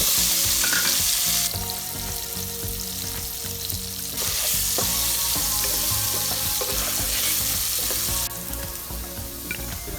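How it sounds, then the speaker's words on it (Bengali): Potatoes lightly frying in oil with turmeric and salt in a karahi, a continuous dense sizzle with some clinking and stirring, close up and steady throughout, no voices. "এবার আমি একটা কড়াইয়ে তেল দিয়ে সামান্য হলুদের গুঁড়া এবং লবণ দিয়ে আলুগুলো হালকা ভেজে নিব"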